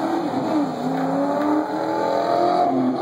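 A Ford Mustang and a 2005 BMW street car drag race, their engines a steady loud roar with rising revs and shifting pitch sweeps throughout, no voices over them.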